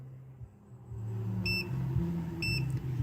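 Two short, high electronic beeps from a multimeter's continuity test, about a second apart, over a low engine-like hum, while working on a 1939 Ford 9N tractor.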